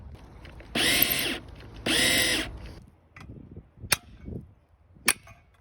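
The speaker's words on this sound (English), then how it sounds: "I will use my chisel and hammer to hit the wood" Two long, harsh bursts of grinder noise, followed by two sharp, separate cracks of a hammer striking a chisel into the wood of an axe.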